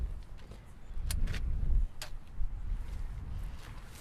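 A walker being folded and loaded into a car: a few sharp clicks and clacks of metal frame and latch over low thumps and rustling, close and moderately loud, with no speech.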